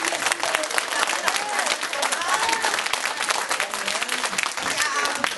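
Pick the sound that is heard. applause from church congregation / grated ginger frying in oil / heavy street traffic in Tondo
applause from church congregation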